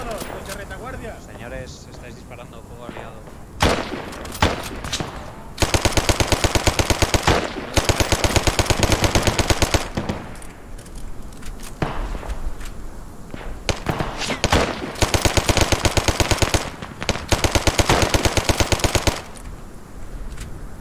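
Bursts of automatic gunfire rattle through an Arma 3 military assault simulation, with several sustained loud volleys separated by single shots and quieter gaps, while players talk over radio throughout.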